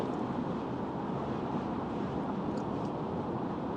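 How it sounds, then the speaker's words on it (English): Strong wind before a storm buffets the microphone in a steady, loud rush of broadband noise, with no talking heard. "It's pretty windy right now."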